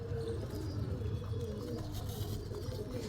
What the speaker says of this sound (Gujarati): આવડા કબૂતર દેખીને આવશે